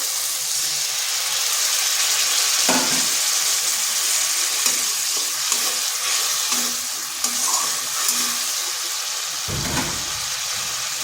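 Water from boiled pointed gourd is poured into a hot pan, giving a loud, continuous sizzle with a few soft knocks from stirring.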